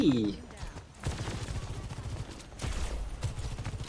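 Gunfire in the shooter game Overwatch 2 comes in rapid bursts of shots, close and loud, with brief pauses between volleys and game effects around them.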